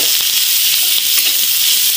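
Chopped onions, with capsicum and green chillies, sauté for gobi Manchurian, giving a loud, steady sizzle with light stirring and no voices.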